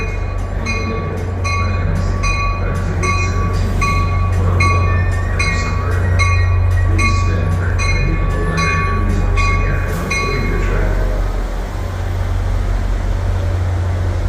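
A train pulls out of Hoboken station with a heavy, steady rumble, close and loud, as repeated metallic clacks and faint squeals ring out over it before settling into a smoother roll.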